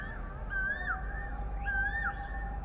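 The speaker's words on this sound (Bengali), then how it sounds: "কোকিল ডাকছে দেখো।" An Asian koel calls twice in a rural vegetable patch by a wild overgrown plot, each a faint rising whistled note standing out over a low background hum.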